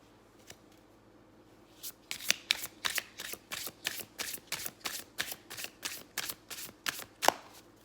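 Tarot cards riffle in a fast, regular burst of crisp snaps after a brief quiet start, repeating about twice a second, close and loud.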